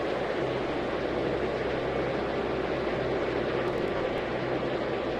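An airliner takes off from Atlanta in Tower!3D Pro, a steady broadband jet roar that stays constant and fairly loud for the whole stretch, with no talk.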